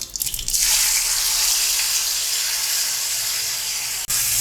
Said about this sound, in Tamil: இப்போ அரைச்ச சட்னியை இதில் சேர்த்துடலாம்